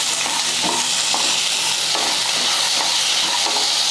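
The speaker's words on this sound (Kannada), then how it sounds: "ಉಳ್ಳಾಗಡ್ಡಿ, ಬೆಳ್ಳುಳ್ಳಿ, ಟೊಮೆಟೊ ಎಲ್ಲ ಹಸಿ ವಾಸನೆ ಹೋಗುವವರೆಗೆ ಹುರ್ಕೋಬೇಕು" Onion, garlic, tomato and peanuts fry in a pan for chutney, a steady close sizzling hiss with faint scraping stirs throughout, no voices.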